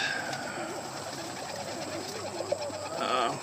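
Pigeons coo softly among birds kept in a loft, the Portuguese tumbler and Egyptian swift breeds, with low repeated burbling calls over a steady hiss of background noise.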